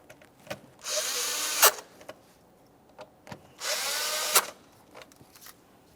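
A power drill drives two Phillips head screws snug in two separate whirring bursts, each about a second long and close by. Each burst rises briefly at the end as the screw seats, with quiet handling clicks between them.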